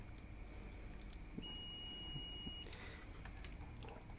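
A multimeter in diode mode emits a single steady high-pitched buzzer tone about a second long as its probes touch, fairly faint over low background hiss.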